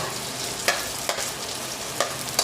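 Onions sauté in a pan with a steady, loud sizzle, broken by a few scraping stirs of a utensil at irregular intervals, close up and without talking.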